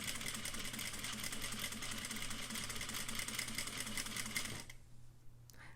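A sewing machine runs steadily, stitching a flat felled seam with a back stitch, its fast mechanical whir continuous for most of the clip before dropping off near the end. The sound is alone, with no talk.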